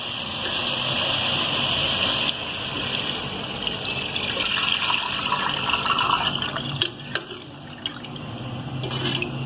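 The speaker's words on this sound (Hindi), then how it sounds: "भूनने के बाद हम इसके अंदर पानी ऐड करेंगे।" Water pours steadily into a pot for several seconds, a loud continuous gushing that breaks into a few splashes and drips near the end.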